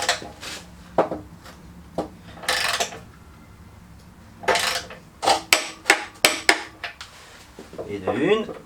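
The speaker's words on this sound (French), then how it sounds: "on va les serrer à la clé dynamométrique" Someone tightens the steering rack nuts on a Peugeot 206 with a torque wrench, making scattered metallic clanks and taps, then a burst of quick ratcheting clicks, close by with a voice speaking briefly.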